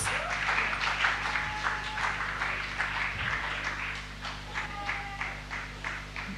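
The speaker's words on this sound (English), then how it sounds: "So let's give him a round of applause." Audience applause for a poet at a live poetry performance event in Africa, a moderate, steady patter of clapping through the whole stretch with some faint voices and cheers mixed in.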